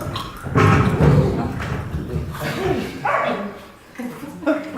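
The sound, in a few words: person imitating a dog barking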